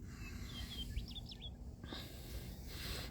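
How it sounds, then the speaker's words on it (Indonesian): Small birds chirp and whistle in brief, faint rising and falling calls over a quiet, steady background hum on a calm, peaceful morning outdoors. "Bisa dengar suara-suara burung yang berkicau, ria dan bergembira menyambut pagi hari yang begitu indah."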